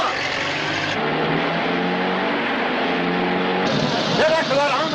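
A car engine revs and pulls away beneath continuous music and overlapping voices, with the loud motor rising toward the end of the chase scene.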